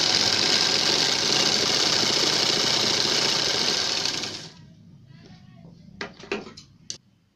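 Sewing machine stitching a round seam on a collar neck, a loud steady motor whir running continuously for about four and a half seconds, then stopping, followed by a few short handling clicks.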